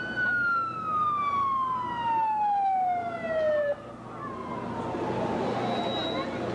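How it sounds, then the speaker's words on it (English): A loud warning siren wails before the 1992 demolition of the Soreno Hotel, a single long descending tone that stops abruptly, followed by distant crowd murmur and a faint second tone. "Yep, another siren, Kim."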